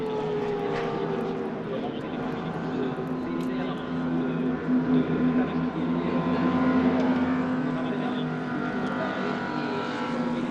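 GT2 race cars blast back out of the Paul Ricard pit lane after their stops, a sustained loud engine roar with layered tones and slight swells, heard under commentary.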